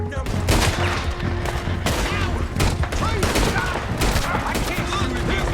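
Heavy, sustained gunfire from a firefight in the video game Red Dead Redemption 2, overlapping shots and booming cracks filling the clip, with shouted voices underneath.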